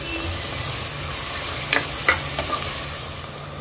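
Onion pieces with a little salt frying in a pan: a steady, loud sizzle with a few soft scrapes of stirring, no talk.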